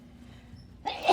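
A single sudden sneeze bursts out in a classroom after a quiet moment, short and fairly close, rising abruptly over faint room background.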